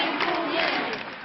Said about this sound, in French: Merci, scande la foule.